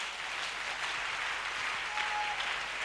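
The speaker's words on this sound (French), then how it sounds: "Alors, une acclamation au Seigneur." A church congregation applauds together, an even, moderately quiet patter of many hands clapping with no voices over it.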